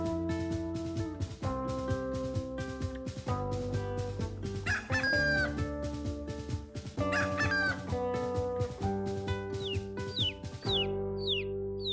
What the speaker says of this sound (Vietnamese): Con gà. Con gà. Chicken, chicken.